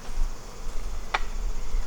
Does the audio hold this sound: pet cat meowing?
no